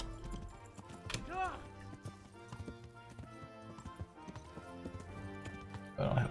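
A horse's hooves clip-clop in a steady, even rhythm while it is ridden at night in the medieval game Kingdom Come: Deliverance, close and moderately loud over a bed of layered ambient tones.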